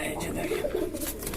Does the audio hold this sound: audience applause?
no